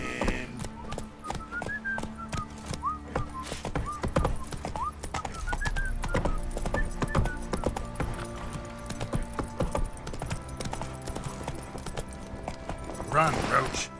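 Hooves of the horse Roach from The Witcher 3 video game clip-clop in a steady galloping rhythm, with game music and a whistle over it and someone talking at times.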